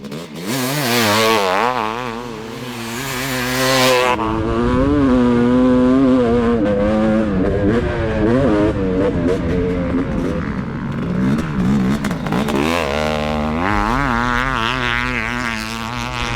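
A 500cc two-stroke dirt bike engine screams around a motocross track, loud and rising and falling in pitch as it revs through gears, fading briefly mid-pass and then surging again.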